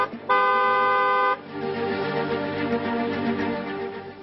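A car horn honks in one loud, steady blast of about a second, followed by a dense, droning wash of traffic noise.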